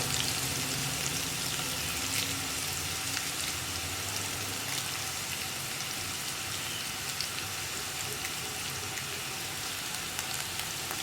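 Onions and curry leaves sauté in a pan for a Kerala mezhukkupuratti of ash gourd, a dense, continuous crackling sizzle that stays loud and close with no speech over it.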